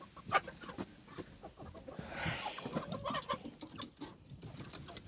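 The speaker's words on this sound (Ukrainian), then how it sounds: "Так, курочка чекає." A hen clucks softly in a shed with a partly open roof, with faint, scattered clucks and low bird calls over quiet background noise.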